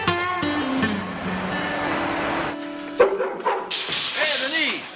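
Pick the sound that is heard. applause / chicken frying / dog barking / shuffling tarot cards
dog barking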